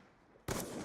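A video game gunshot bursts in loud and broadband partway through, after a quiet stretch of low background, with a sustained harsh blast following the onset.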